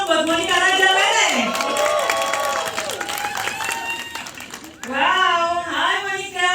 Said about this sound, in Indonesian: Boleh kita tepuk tangan dong buat Monica Raja Lele.